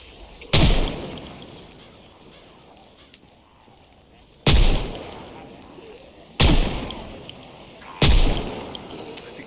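Four loud, sharp gunshots from a firearm in the zombie survival game Project Zomboid, one at the start and three more spaced a couple of seconds apart, each followed by a decaying echo, with a faint voice murmuring between them.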